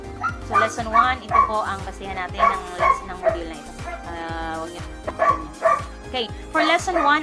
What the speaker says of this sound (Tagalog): Sorry po sa aso namin. Gutom na.